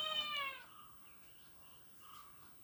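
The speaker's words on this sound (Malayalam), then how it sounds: "അപ്പോൾ നമ്മുടെ പൂച്ചക്കുട്ടി ഇവിടെ വന്ന് ഞാൻ എന്താ ചെയ്യുന്നതെന്ന് നോക്കുന്നുണ്ട്" A kitten gives one clear, rising meow up close, then the room falls to faint background hush.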